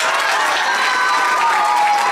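Audience applause after a talk, a steady dense wash of many hands clapping at full loudness for the whole stretch, with a faint murmur of crowd voices mixed in.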